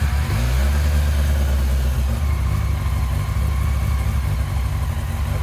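A Yamaha R6 sport motorcycle engine idling steadily with its carburetors not yet synchronized, a loud, close, continuous low rumble with a slightly uneven pulse throughout.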